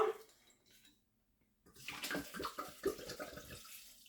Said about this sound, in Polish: do tego zaleję to wódeczką